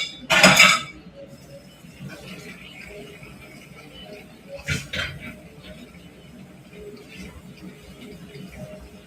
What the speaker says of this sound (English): Okay, so let's put these dishes away.